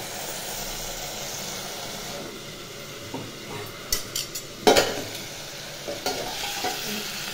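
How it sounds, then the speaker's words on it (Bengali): Pieces of katla fish fry in oil in a home kitchen, giving a faint, steady sizzle broken by a few sharp clinks and scrapes of a utensil against the pan. "এখন মাছটা ভেজে নিলাম, কাতলা মাছের ঝোল করব।"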